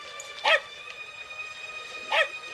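A dog, Wishbone, gives two short, sharp barks more than a second apart, fairly close, over a quiet room tone with no talking.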